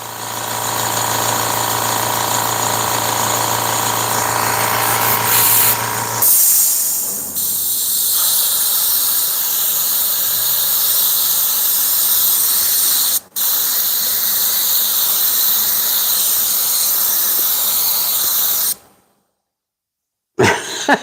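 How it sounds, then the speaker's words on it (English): An airbrush painting a hoodie hisses loudly and continuously, with a squealing tone in the first six seconds, a brief break near thirteen seconds, then a cutoff into silence near the end. "This airbrush is not having fun."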